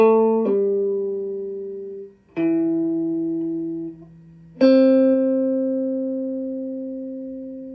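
Three plucked guitar notes in a short phrase, the first slurring quickly into a second pitch with a pull-off, each ringing out and decaying with brief gaps between.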